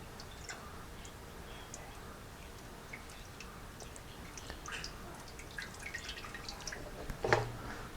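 Cleaning liquid poured into a freeze dryer chamber after closing the drain valve gives faint, sparse drips and small ticks over a quiet room background, with a slightly louder splash near the end.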